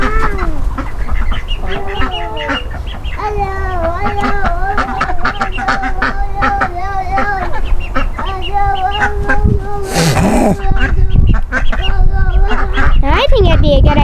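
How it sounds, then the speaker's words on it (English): Ducks, ducklings and chickens running about a farm, with loud continuous quacking and clucking close by, layered calls overlapping throughout, and people talking among the birds. "Oh, we almost messed up the baby duckling."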